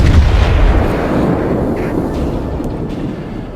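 The battleship Arkansas fires in World of Warships with a loud, deep boom at the start, followed by a long low rumbling decay against the game's background noise.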